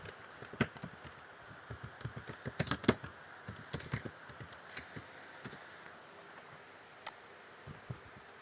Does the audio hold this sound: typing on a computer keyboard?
yes